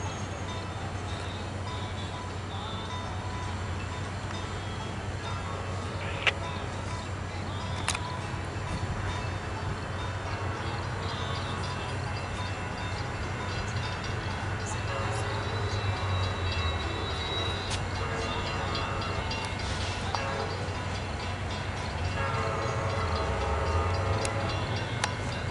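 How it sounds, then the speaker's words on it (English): Amtrak San Joaquin passenger train passing in California's Central Valley, a long steady rumble of wheels on rails with faint clatter, building slightly louder toward the end and heard at moderate distance. "here comes Amtrak Sam King 702."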